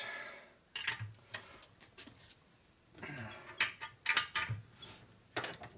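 Ratchet wrench clicking in short bursts while engine bolts are torqued on a 1961 Harley-Davidson XLCH Sportster during an engine and transmission rebuild, with close metallic ticks and clanks separated by brief pauses.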